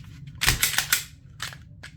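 Clearing a Smith & Wesson Equalizer pistol: a quick cluster of sharp metallic clacks and snaps from the slide and magazine being worked, followed by two lighter clicks, close and alone with no talk.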